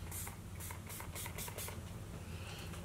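Bursts of makeup setting spray hiss out in quick repeated pumps, about five short airy sprays in the first two seconds, over a steady low background hum.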